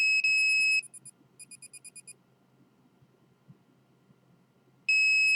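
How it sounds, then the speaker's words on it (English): Piercing electronic alarm beeps from a smoke detector: a long loud tone, a run of rapid quieter chirps, then silence before the loud tone returns. "the alarm in the yellow detector."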